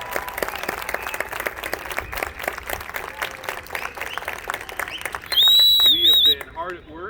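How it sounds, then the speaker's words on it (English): A stadium crowd at Memorial Stadium applauds the Indiana Marching Hundred at their open rehearsal: dense, distant clapping that swells, then a shrill whistle cuts through for about a second before the applause thins out. "let's give a big round of applause for our 2023 Marching 100."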